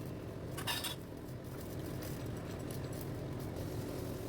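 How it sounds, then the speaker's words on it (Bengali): A metal kadai is set onto a stove in a home kitchen with a brief clank early on, followed by a low, steady background hum. "এরপর ডালটা ছেঁকে নেওয়ার জন্য কড়াই বসিয়ে দিলাম।"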